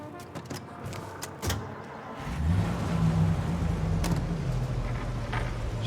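Vintage car engine in Mafia Definitive Edition, a low steady rumble that starts after a couple of seconds of clicks and knocks and then holds a droning idle-to-cruise hum.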